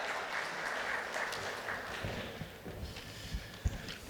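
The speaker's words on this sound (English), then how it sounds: "Can I have a big round of applause for our Vice Chairman," Faint, distant applause from an audience at an anti-money-laundering seminar, a steady soft patter with a few sharper thumps toward the end.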